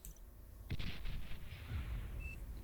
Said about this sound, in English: Artillery shelling away here.